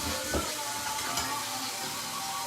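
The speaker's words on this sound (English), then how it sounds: "We just want to get a quick sear on all sides" Marinated pork seared in a hot pan sizzles steadily and quietly, a constant frying hiss with a few faint bumps as the meat is moved.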